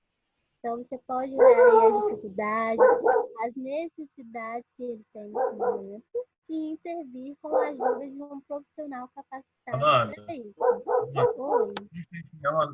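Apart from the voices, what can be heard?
dog barking near a speaker's microphone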